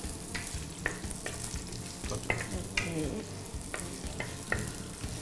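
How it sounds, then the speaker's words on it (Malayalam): Onions frying in hot oil for Kerala-style beef curry, a close crackling sizzle punctuated by regular stirring scrapes and utensil taps. "സവോള ഇടാം നമുക്ക്, എണ്ണ ചൂടായിട്ടുണ്ട്."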